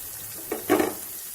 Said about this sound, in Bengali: এবারে গরম তেলের মধ্যে দিয়ে দিচ্ছি কুচানো পেঁয়াজ এবং লঙ্কা